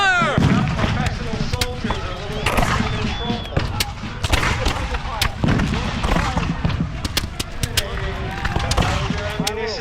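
Soldiers at a Bunker Hill battle reenactment firing at will, a ragged series of sharp, loud gunshot cracks scattered unevenly across the clip, some near and some farther off, with shouting voices mixed in.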